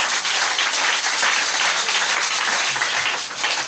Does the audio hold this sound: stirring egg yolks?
no